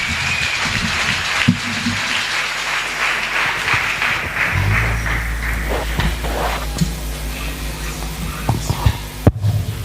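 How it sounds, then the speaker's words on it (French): A church congregation at a praise and worship service in Libreville applauds in a sustained, hissing wash of clapping, joined midway by a deep, steady musical hum and a few sharper knocks near the end. "Sous vos acclamations."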